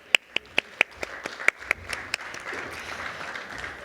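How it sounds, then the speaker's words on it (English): Audience applause at a Black History Wall of Excellence ceremony in Long Beach, opening with a few sharp, close single claps that swell into softer, steady group clapping. "A round of applause for all of our folks"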